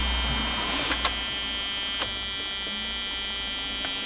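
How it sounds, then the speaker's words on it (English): A Jeep Cherokee XJ Mk1 4.0 petrol's under-dash alarm buzzer drones continuously at high volume, a harsh unbroken electrical buzz with a few faint clicks. "we're going to get that bloody buzzer again"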